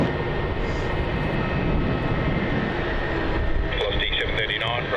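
An airliner at Melbourne Airport roars as a steady broadband engine rumble, loud and continuous, while radio air traffic control chatter runs over it.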